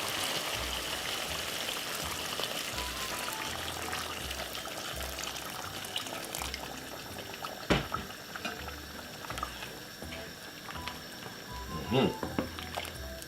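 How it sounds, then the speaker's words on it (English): Boiling water pours steadily into a pot of Jamaican curry goat with a continuous rushing splash, with a few clunks and knocks partway through. "So you have to add some boiling water to this now."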